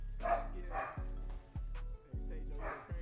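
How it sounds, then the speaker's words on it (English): A dog barks in a quick run of sharp, repeated woofs, fairly close but not loud, with steady low hum and faint electronic sound in the background. "my dog going crazy"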